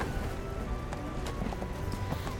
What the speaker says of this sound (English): It's a flaming armored horse.